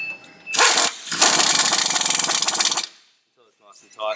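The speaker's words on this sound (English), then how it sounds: "Always use a rattle gun onto the highest setting" A rattle gun set to its highest setting tightens the strut bolts on a Ford XL MacPherson gas strut, giving one brief loud burst and then a longer sustained buzzing hammer of about two seconds, with quiet talk afterward.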